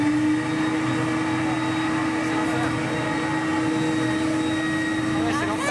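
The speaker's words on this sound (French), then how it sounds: "C'est vraiment un aspirateur." A household vacuum cleaner runs with a loud, steady whine and drone that stays level throughout, without pause.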